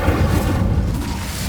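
A dense, loud roaring whoosh of the Incendio fire spell in Hogwarts Legacy fills the moment with a steady low rumble and no talk.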